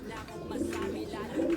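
Low pigeon coos close at hand, soft rolling calls repeating over a steady background murmur.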